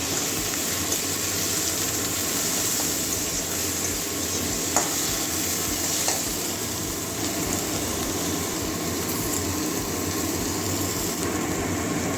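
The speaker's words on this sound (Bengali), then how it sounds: "এবারে আদা রসুন পেঁয়াজ দিয়ে দিচ্ছি রসুন কুচি দিয়ে দিচ্ছি এবারে আদা কুচিও দিয়ে দিচ্ছি এটা কাঁচা গন্ধ যাওয়া পর্যন্ত ভেজে নেবো" Chopped ginger, garlic and onion frying in oil for a Bengali fish curry, a dense steady sizzle throughout with a few faint utensil clicks from stirring, close and fairly loud.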